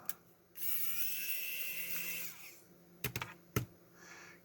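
Wow Stick electric precision screwdriver removing screws: a short, high whirring buzz of about two seconds, then several sharp clicks and taps as parts are handled, all quiet and close.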